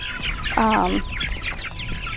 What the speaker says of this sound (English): I don't love these roosters compared to the hens that we did last year